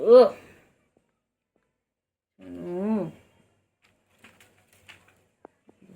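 Two soft, low coos a couple of seconds apart, close and clear, followed by faint small clicks and taps in an otherwise quiet space.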